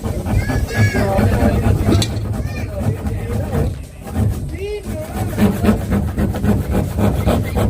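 A handsaw cutting through wood while building a small hut, with rhythmic rasping strokes that repeat under several people talking loudly nearby.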